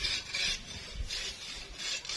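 Rhythmic back-and-forth rasping strokes of a hand saw cutting tree wood outdoors, about four steady strokes, close and moderately loud.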